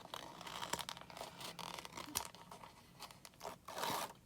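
Backing strip being peeled off a cardboard mailer at close range, with a run of dry tearing, crinkling rasps and short crunchy bursts that come in uneven clusters, and no voices.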